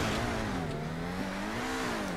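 Grotti Visione supercar in GTA 5 driving up a stunt ramp, engine roaring steadily at high revs with a slight waver in pitch, loud and close.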